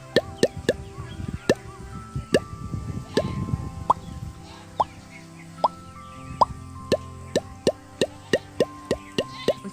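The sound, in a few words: voice imitating water pipe of newly sunk tubewell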